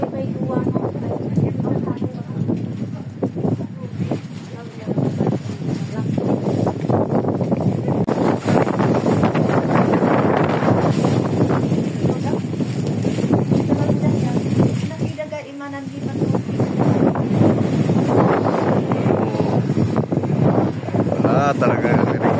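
Strong wind sweeping a high mountain campsite on Mt. Tabayoc in the Philippines, a loud continuous roar buffeting the microphone with a brief dip near the end, and a voice talking through it.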